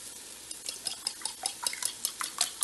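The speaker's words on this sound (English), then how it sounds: "Now we can beat 4 eggs" Four eggs beaten in a bowl for spiced scrambled eggs, a brisk run of soft clicking strokes against the bowl, fairly quiet and close, with no voices.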